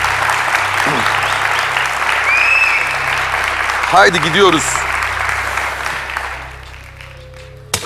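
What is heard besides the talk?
studio audience applause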